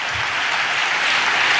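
A church congregation claps in praise of God, a dense, loud burst of applause filling the whole short moment.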